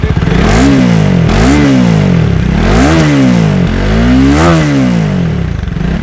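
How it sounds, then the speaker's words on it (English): A 2019 Bajaj Dominar 400 motorcycle with a dual exhaust revs repeatedly, its loud, close engine note rising and falling in several throttle blips over a steady rumble. "has completely changed the exhaust sound of the Dominar 400"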